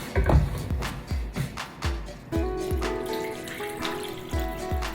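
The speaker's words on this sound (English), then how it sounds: "I'm going to add some water." Water splashes and pours in uneven gushes into a pot of meat, with clinking and sloshing near the listener.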